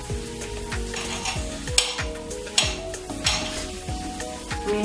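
Onions frying in a pan while being stirred, with a steady sizzle beneath rhythmic scraping and clinks of a utensil against the pan and several louder knocks, close and fairly busy throughout, no talking.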